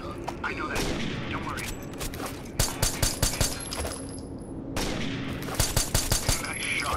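Rapid bursts of gunfire from a first-person shooter video game, with clusters of sharp repeated shots over a steady game-sound bed and occasional voice in the background.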